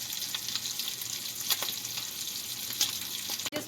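Meatballs frying in a pan on low heat, a steady close sizzle with occasional crackles and a scrape near the end, no speech.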